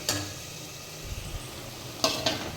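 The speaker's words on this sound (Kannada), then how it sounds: "ನೋಡಿ ಕಬಾಬ್ ಬೇಯ್ತಾ ಇದೆ" Kebab pieces frying in a pan at home, a steady close sizzle with a few stirring scrapes and clinks near the end.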